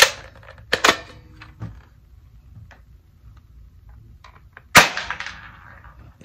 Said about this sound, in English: This BB gun is strong. So let's shoot the other two. We gotta cock it back.